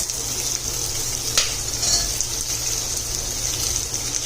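Onion and tomato sizzling in a pan for sambhar vadi, a steady close frying hiss with a low hum underneath and no talk.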